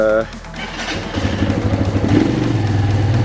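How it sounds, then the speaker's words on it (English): A motorcycle engine idles and rumbles unevenly nearby, a low throbbing putter with some clatter, settling into a steady warm-up idle. "let that engine warm up a little bit"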